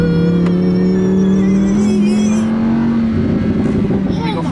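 A 2015 Lamborghini Huracán LP 610-4 engine drones steadily and rises slightly in pitch as it pulls uphill at half throttle, loud and close, with a voice talking over it.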